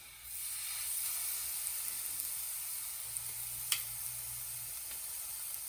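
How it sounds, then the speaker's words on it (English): Steak bites sizzling in hot oil in a pan, a steady bright crackling hiss with occasional small pops, close and continuous with no talk. "You want to hear that sizzle."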